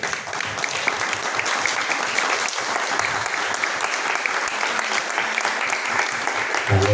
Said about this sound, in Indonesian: Ayo saya pengen dengan saudara tepuk tangan dulu.